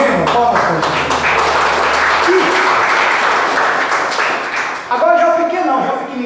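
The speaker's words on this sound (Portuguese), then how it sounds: "Palmas para Deus." Loud church congregation applause fills most of the stretch, dense clapping that fades out near the end as a voice resumes speaking.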